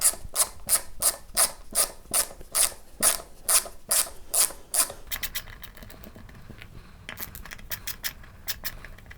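A guitar bridge is removed from a stripped body, with a run of rhythmic ratcheting clicks like a screwdriver turning screws, followed by lighter scattered rubbing and clicking of parts, close and without speech.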